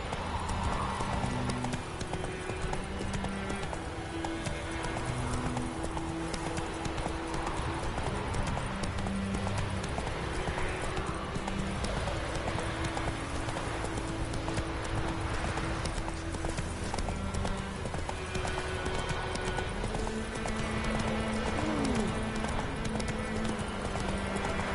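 Roach the horse gallops in The Witcher video game, hooves pounding in a fast continuous clip-clop over a dense, loud game soundtrack, with a brief whinny-like cry among the steady hoofbeats.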